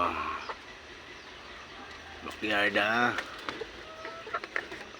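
Backyard chickens, a single clear clucking or crowing call standing out briefly, fairly close, amid quiet ambience and people talking nearby.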